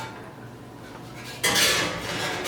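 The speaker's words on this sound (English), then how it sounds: "I'm going to open the oven and I'm going to use the mirror tray" A baking tray for sriracha chicken drumsticks is handled at an oven preheated to 450 degrees: a soft background hum, then a sudden bright metallic clatter and scrape of the tray halfway through, close and clear with no speech.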